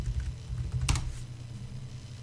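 Keys tap faintly on a computer keyboard in a quiet room, with a short cluster of strokes and a steady low hum underneath.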